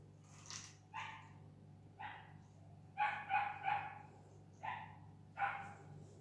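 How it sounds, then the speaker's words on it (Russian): Several puppies bark indoors nearby in short bursts, single yaps and a quick run of three barks, separated by pauses over a low steady hum. "Мои собаки опять что-то там лают."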